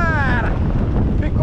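Strong wind buffets the microphone on a fishing boat, a loud continuous roaring rumble, with a brief tonal whistle at the start.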